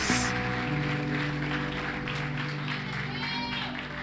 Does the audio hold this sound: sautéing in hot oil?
no